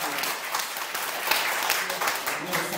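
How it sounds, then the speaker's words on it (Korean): An audience at a national public debate forum gives warm, sustained applause, a dense continuous wash of clapping with crowd voices mixed in. "여러분들 뜨겁게 박수 한번 청해해 주십시오"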